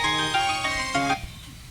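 A telephone rings for an incoming call to a radio show, a bright harmonic electronic ring tone repeating in short pulses before cutting off, with a faint low hum left underneath.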